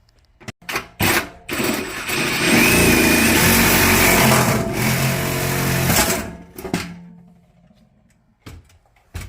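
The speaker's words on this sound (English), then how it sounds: "and then I'm going to use the hacksaw." A hacksaw cuts through a seized plastic faucet stem under a sink, heard as loud, rasping back-and-forth strokes that run steadily for several seconds, then break into a few short separate scrapes and knocks.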